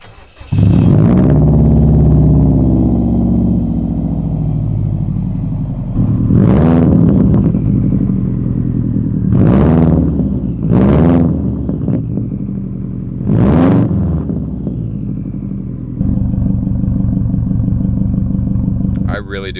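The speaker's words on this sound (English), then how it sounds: "the exhaust, I love the way it sounds, but I think it's definitely too loud" A deep, throaty car exhaust rumbles at idle, broken by four loud, sharp revs spaced a few seconds apart.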